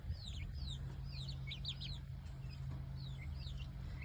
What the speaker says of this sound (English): this breed of chicken just doesn't get very big.